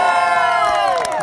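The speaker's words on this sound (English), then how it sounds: "let's make it a long, loud cheer so everybody wonders what's happening" Wedding guests break into a loud, sustained cheer with whoops and shouts, a dense close crowd roar.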